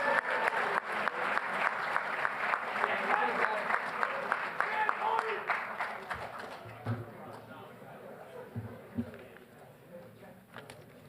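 Winter sports varsity award winners receive a round of applause from an audience, a dense, steady clatter of many hands that holds for several seconds, then thins and fades under crowd murmur and scattered voices.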